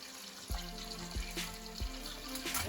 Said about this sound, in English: Rinse it off the hot water.